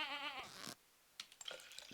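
Goat bleating on a farm: one close, wavering bleat, followed by small knocks and shuffling noises.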